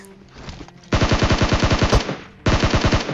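Rapid bursts of automatic gunfire crackle in a PUBG Mobile match, one long rattling string of shots followed after a short pause by another burst, loud and close against quieter background game sounds.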